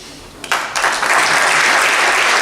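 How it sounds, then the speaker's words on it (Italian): An audience at the final evening of a book festival breaks into applause after half a second. The clapping quickly swells into a loud, dense, sustained ovation with almost no speech. "Un applauso ancora a Paolo Bianchi"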